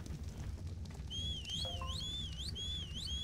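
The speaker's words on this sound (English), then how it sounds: "just whistle at them to get them to stop" A player character in ARK: Survival Evolved gives a repeated rising, warbling whistle to tamed animals, several close, clear calls in a row over low game ambience.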